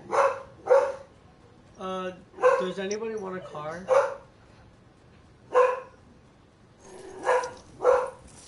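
A dog barks in several short, loud bursts in the background while people talk over it during a Fortnite gaming session.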